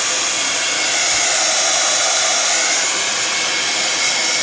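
A hair dryer blows a constant, loud, close-up whoosh over modeling paste on an art project, holding steady throughout with no voices.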